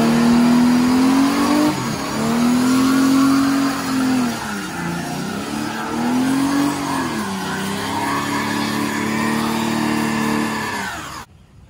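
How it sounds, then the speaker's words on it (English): A hot rod's engine revs hard and holds high during a burnout, dropping and climbing again in long loud surges with tire noise beneath, then cutting off abruptly at the end; a few words are spoken. "So let's do a burnout and maybe blow the motor up."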